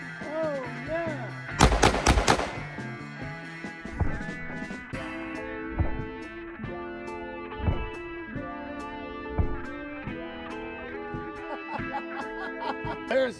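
Shots from a Tisas PX-5.7 handgun firing FN 5.7 ammunition at a range: one loud close blast followed by a string of sharper cracks spaced a second or two apart, with faint voices and ringing tones between them.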